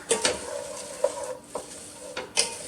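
A pot of vegetables seasoned with ground black pepper is stirred, giving soft scraping and clinking strokes at an irregular pace over a low background sizzle, close and moderately loud.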